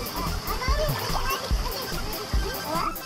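Water being thrown and splashing among children, several sloshing splashes at irregular intervals under nearly constant voices of kids and adults talking.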